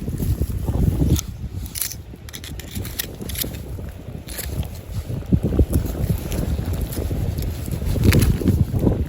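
Strong wind buffets the microphone on a beach, a steady rumbling roar with gusts that swell and fade throughout, no voices over it.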